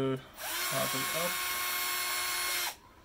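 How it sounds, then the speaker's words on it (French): A Bosch Pro GSR 12V-15 cordless drill-driver whirs at high speed for about two seconds, with a brief clicking rattle as the clutch slips at its minimum setting, framed by a voice before and after. "au minimum ça débraye tout de suite"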